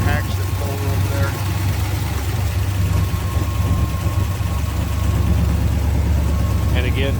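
Supercharged 289 V8 in a 1963 Studebaker Avanti R-2 with Paxton supercharger idling steadily, a deep continuous rumble throughout with a few faint higher-pitched sounds on top.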